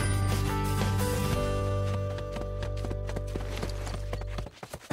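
Hooves of a ridden horse clip-clop in a quickening rhythm as it moves up from a walk, the steady beats running under loud sustained music until it cuts off near the end.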